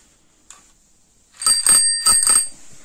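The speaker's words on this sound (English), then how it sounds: "bell" A Raleigh Wayfarer bicycle bell rings twice, two bright, close metallic rings in quick succession with a lingering shimmer, following a faint single tap.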